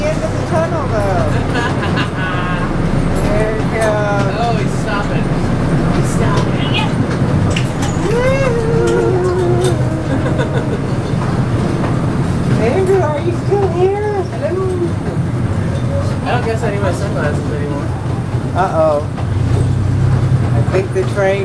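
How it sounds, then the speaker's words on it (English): A zoo train ride rumbles with a steady low engine drone throughout, while people chatter and call out over it. "I think the train broke down."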